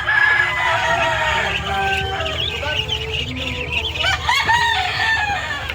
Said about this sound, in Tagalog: Ang kukulit ng mga pato na to